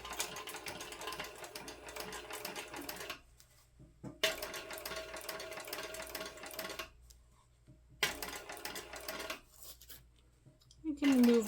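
A sewing machine topstitches a handbag at one-eighth inch around its edge, running in two long close bursts of steady rapid stitching with short quiet pauses between, then a brief third run.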